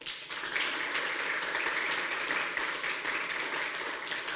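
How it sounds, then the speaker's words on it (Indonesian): A church congregation applauds steadily for a few seconds, dense clapping at a moderate distance, with no talking. "Tepuk tangan dong."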